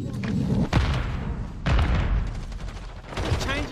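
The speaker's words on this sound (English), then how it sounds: "Grenade out." Grenade blasts and rifle fire in Call of Duty Modern Warfare 3: several heavy, loud booms and bursts of shots recur across the stretch, with a voice talking over the gameplay.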